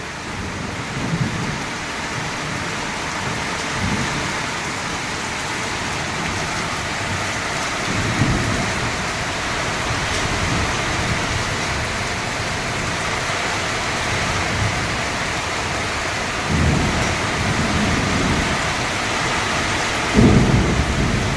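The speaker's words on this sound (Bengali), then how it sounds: "তারপরে এই ঝড় বৃষ্টি, এই দেখো কেমন বৃষ্টি হচ্ছে।" Steady heavy rain hisses throughout while low thunder rumbles roll in several times, the last one loudest near the end.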